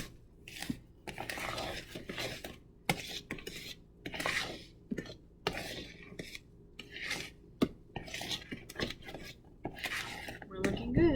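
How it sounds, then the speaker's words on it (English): Spoon scraping and clinking through cranberry bread batter in a bowl during home baking, repeated irregular stirring strokes close up, moderately loud and alone without talk. "So you're going to mix this until well blended."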